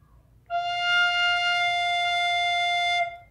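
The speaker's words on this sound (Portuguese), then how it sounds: "Vou tocar aqui para vocês a nota Fá da primeira oitava da flauta doce sopranino, que é a nota mais grave da flauta doce sopranino" A Yamaha YRN-302BII sopranino recorder sounds its lowest note, F, one steady clear tone held for about two and a half seconds after a brief quiet start, alone and moderately soft.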